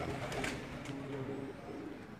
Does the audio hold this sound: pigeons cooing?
yes